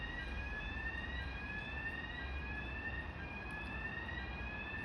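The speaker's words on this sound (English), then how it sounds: "There's a fire alarm going off." A fire alarm sounds at a Jewson building, a continuous high electronic tone with a slowly rising sweep, steady and fairly close over constant background noise, with no talking.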